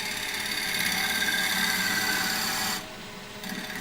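A gouge cuts a wooden bowl spinning on a lathe, producing a steady, close rasping hiss that continues unbroken and then drops abruptly to a softer whir as the tool lifts away near the end.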